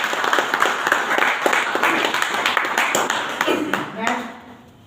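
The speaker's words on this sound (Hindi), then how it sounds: "एक जोरदार तालियां।" Audience applause at an Ayurveda talk, following an award announcement: a broad wash of crowd clapping that holds steady and then fades out near the end.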